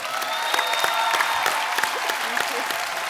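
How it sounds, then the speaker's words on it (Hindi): Studio audience at a comedy talk show clapping together, a dense, steady burst of applause with scattered sharper claps, moderately loud and continuous throughout, with no speech over it. "भारत श्रीलंका के प्यार के लिए बहुत बहुत तालियां।"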